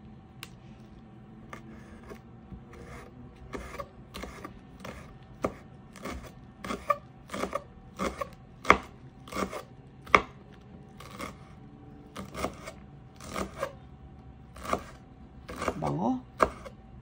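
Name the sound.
knife slicing rolled basil and cheese stick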